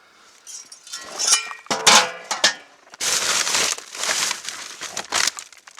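Metal frying pan handled among camp gear while unpacking a trapping camp, giving close crinkling, clattering and clinking rustles in irregular bursts with no talk.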